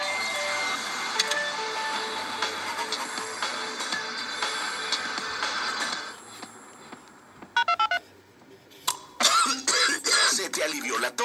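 A cough medicine commercial features several short, sharp coughs in the second half, after a stretch of electronic tones and beeps with some voice.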